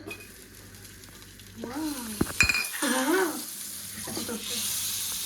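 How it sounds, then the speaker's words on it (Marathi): Butter hits a hot pan partway through and starts a soft sizzle, with clinks of a utensil against the pan and someone talking quietly alongside. "तर आता आपण टाकूया बटर."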